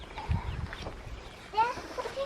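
Farmyard chickens on a homestead cluck in a few short, soft calls around feeding time, close by, with a person's voice calling to them in between.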